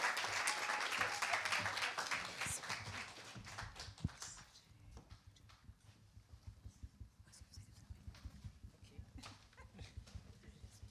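Applause greeting people called forward at a church conference, loud dense clapping at first that thins after a few seconds into scattered claps beneath faint background voices.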